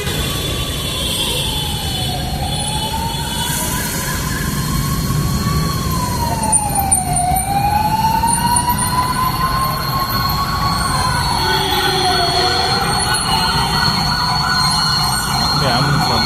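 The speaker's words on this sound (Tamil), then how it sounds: "ஆம்புலன்ஸ் வந்துட்டே இருக்குதுங்க." An ambulance siren wails along a busy road, a loud, slow rising and falling tone over steady traffic rumble, with a second, higher siren tone joining partway through.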